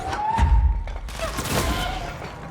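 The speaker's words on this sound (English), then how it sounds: "I think a rocket was just actually just fired at me." A rocket fires in the action video game Control, landing as a dull, heavy thump amid a busy mix of game combat noise and scattered impacts, with a brief high whoosh-like streak.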